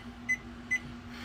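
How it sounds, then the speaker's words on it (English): A kitchen-style timer set for forty minutes gives two short, high electronic beeps close together, heard clearly over a quiet room hum. "Alright, timer, 40 minutes."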